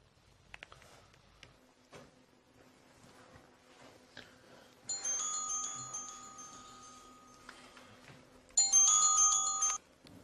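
A phone rings twice in a quiet room, each electronic melodic burst lasting a few seconds with a pause between them. Faint background ticks and clicks come before the first ring.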